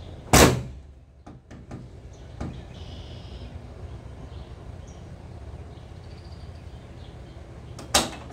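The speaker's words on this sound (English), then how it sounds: "let's see how the hood shuts" A 1976 Ford Maverick hood is shut with a loud, close metallic slam near the start, a few light clicks, and a second sharp slam at the end, with quiet room tone between.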